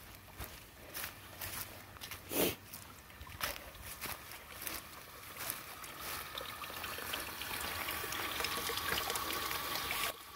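Water trickles and splashes through a newly connected pipe, a faint, irregular dribble with scattered knocks that grows into a steadier flow toward the end.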